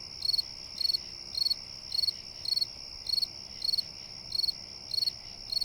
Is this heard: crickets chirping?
yes